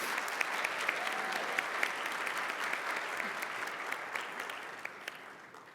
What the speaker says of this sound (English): a round of applause is great